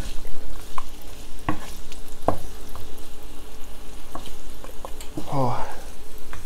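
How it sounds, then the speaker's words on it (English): Garlic and ginger sizzle steadily in hot oil, close up, with occasional clacks and scrapes of stirring in the pan. "once it starts sizzling like this, you just want to season your oil"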